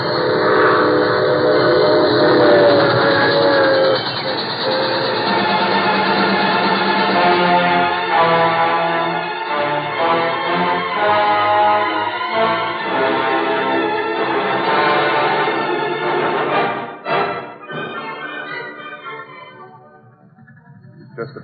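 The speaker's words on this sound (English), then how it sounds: "There goes the troop train." A troop train rushes past loudly, its whistle sounding in long sustained tones over the rumble of the cars, then fading away near the end.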